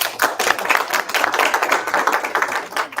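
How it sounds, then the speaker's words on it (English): Applause from an investor group meeting audience, a steady patter of hands clapping throughout, fairly close and moderately loud, with no talk over it. "And round of applause."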